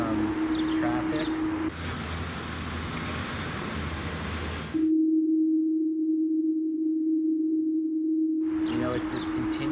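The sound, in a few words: mysterious continuous hum recorded in Rochester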